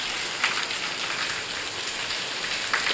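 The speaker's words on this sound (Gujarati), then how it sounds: "હવે વરસાદ પાછો ચાલુ થઈ ગયો છે" Steady rain falls on a surface as a dense, even hiss of drops, close and fairly loud with no pauses.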